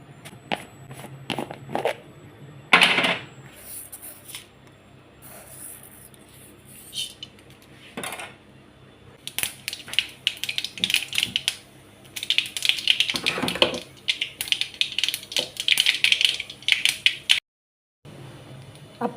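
Mustard seeds splutter in a little hot oil before spinach goes in for a Kerala-style thoran, giving irregular bursts of sharp crackling pops, close and fairly loud, with quieter gaps between clusters.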